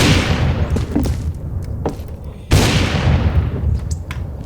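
Gunfire in the Roblox video game sounds as two heavy booming shots a couple of seconds apart, each followed by a rumbling decay, with softer pops in between.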